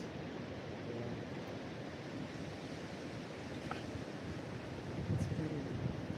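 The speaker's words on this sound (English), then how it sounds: "The wind gust." Storm wind roars steadily outdoors, a dense rushing noise with buffeting against the microphone that swells slightly near the end, no voices heard.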